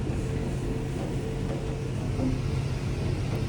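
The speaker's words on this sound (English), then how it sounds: "Here is the locomotive at the front of the train, which is pulling us." V/Line locomotive pulling a passenger train between Gisborne and Bendigo, heard from just behind the loco: a steady, low, continuous engine and running rumble with no talking.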